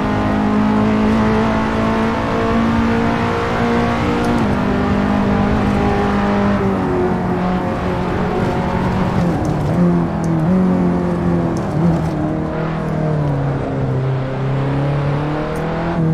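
Engine of a KTM X-Bow GT4 race car in Assetto Corsa, droning loud and steady throughout with rising and falling pitch as it revs through gears, no voices over it.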